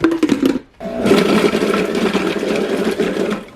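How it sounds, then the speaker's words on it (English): A Chef Robot CR7 multi-cooker with its lid on whirs loudly as it chops peppers, running in a short burst, pausing briefly, then spinning again in a steady, grinding motor drone. "we're gonna add the lid and chop it"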